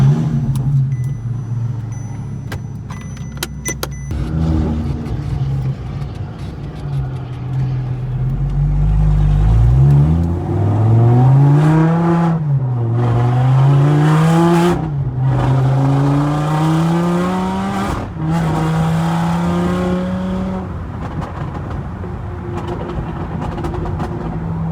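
A supercharged V10 Audi R8 revs and accelerates hard, pitch climbing through several gear changes, loud and close, then settling into a steady high drone.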